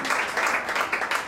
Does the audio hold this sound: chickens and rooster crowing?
no